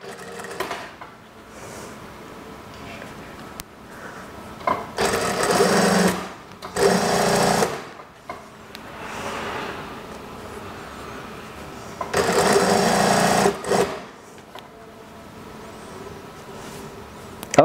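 A sewing machine stitching along the folded, rolled edge of daster fabric runs in several short bursts of fast whirring, separated by quiet pauses while the fabric is repositioned.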